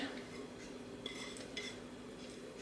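A spoon mixes potato pancake batter of grated potatoes, mushrooms, onion, garlic, egg and grated cheese in a bowl, giving soft, quiet scraping and a few light clinks against the dish.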